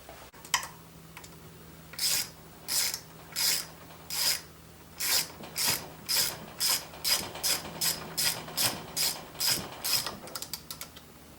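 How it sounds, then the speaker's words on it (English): A ratchet torques down the gearcase bolts on a 1993 Harley FXR stroker engine, giving a series of close, crisp clicking bursts in an uneven rhythm that quicken toward the end, with no talking. "Now I'll get the rest of the bolts on there and torque everything down."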